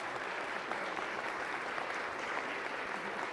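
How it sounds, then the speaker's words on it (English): Audience applauding festival partners at a San Antonio city council meeting, a soft, even patter of many hands, fairly distant and steady throughout. "a round of applause for them"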